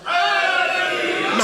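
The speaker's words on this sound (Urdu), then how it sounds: "یا علی کہیں گے آپ نعرے کے جواب میں" A gathering responds in unison to a religious slogan at a majlis in Pind Dadan Khan, Jhelum: one sustained, loud collective shout of Ya Ali lasting just over a second.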